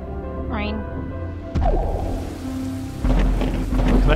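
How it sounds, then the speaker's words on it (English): Steady heavy rain in a video game with deep rumbling thunder rolling underneath, a sharp crack midway, while a voice talks over the storm. "Look at that deluge."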